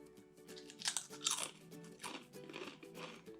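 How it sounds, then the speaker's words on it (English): Ketchup-flavored potato chips are bitten and chewed close to the microphone, with several sharp, crisp crunches in an uneven rhythm and quiet pauses between them. "These are the ketchup flavored chips, and ooh, they're very red."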